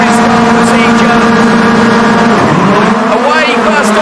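Rallycross race cars revving loudly together on the starting grid in Norway, a dense wall of engine roar with a rising pitch as they launch, under excited commentary.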